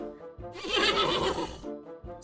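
A horse lets out a single close whinny, a shrill rising and falling neigh that lasts about a second, preceded and followed by softer snorting breaths.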